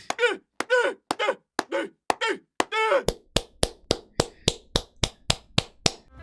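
Clapping in the video game Pokémon Legends Z-A: first a run of voiced, rhythmic bursts, then a crisp, evenly spaced series of sharp claps repeating about three times a second, close and loud.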